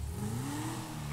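A Dinka Jester sports car in Grand Theft Auto V revs its engine, the pitch climbing steadily, loud and close with no talk over it.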